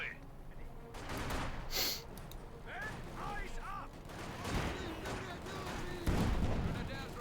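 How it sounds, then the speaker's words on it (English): A field gun fires in Company of Heroes 2 during an Ostheer-versus-Soviet match, with booming shots and battle noise mixed with submachine gun bursts, all under a commentator's continuous talk. "Field gun shoots."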